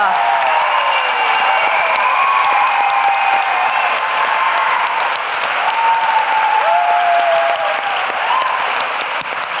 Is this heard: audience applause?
yes